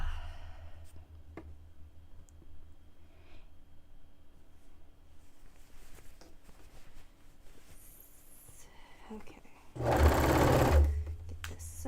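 A sewing machine stitching a dress made from bed sheets runs in a short, loud burst near the end, after a long stretch of quiet handling of fabric with faint rustles and taps.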